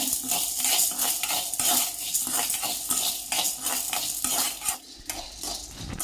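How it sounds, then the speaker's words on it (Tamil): Chana dal roasting in a little sesame oil for idli podi, stirred continuously with a metal spoon: steady, close scraping and clinking against the pan over a soft background sizzle, with no talk. "நல்லெண்ணெய் கொஞ்சம் சேர்த்துக்கிட்டு கடலைப்பருப்பை வறுத்து எடுத்துக்குவோம்."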